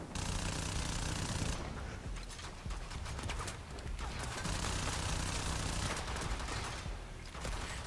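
Twin Vipers Wraith pistols in Warframe fire in dense rapid bursts, a constant rattle of quick shots with brief pauses between volleys, heard under game noise.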